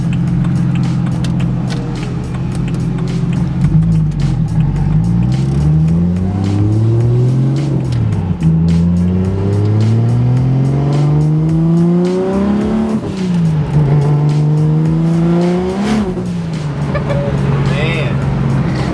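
A single-turbo BMW 135i accelerates through the gears from inside the car, the engine note climbing repeatedly with drops at each shift, loud and close, with someone talking over it.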